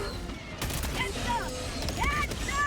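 A volley of gunfire rattles in Helldivers 2 as a burst of rapid shots with crisp impacts, while voices shout over the shooting.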